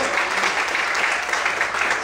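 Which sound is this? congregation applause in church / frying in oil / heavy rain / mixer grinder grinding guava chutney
congregation applause in church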